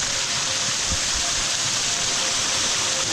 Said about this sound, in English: Look at this, that's a sick little cascade.